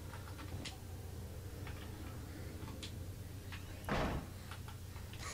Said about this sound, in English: You can't do the doors any quieter, by the way. You just slam them.